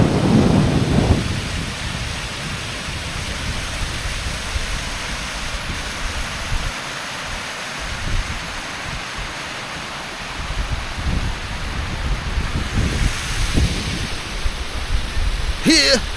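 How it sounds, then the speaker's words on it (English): Waterfall in the mountains of the Isle of Skye giving a broad, steady rushing roar that fills the whole clip, with a few brief knocks and rustles near the microphone. "Here we are at Brideville Waterfall."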